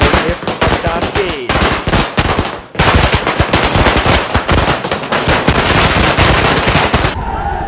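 Loud, rapid volleys of firecrackers crackle and pop nonstop, with a brief lull midway before another long, dense burst.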